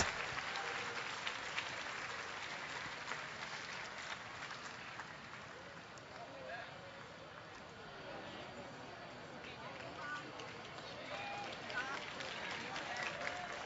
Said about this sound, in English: So a big round of applause for Austin and Dorcas.